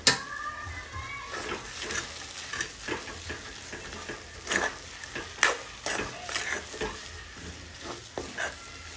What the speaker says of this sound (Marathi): अर्धा चमचा आपल्याला ह्यामध्ये धना पावडर टाकायचे आणि हलवून घ्यायचे.